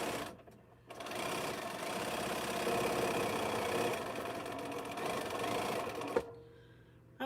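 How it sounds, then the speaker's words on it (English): Home sewing machine back-stitching a T-shirt quilt border, a steady close mechanical whir that runs for about five seconds before stopping with a small clack. "And I think I've back stitched."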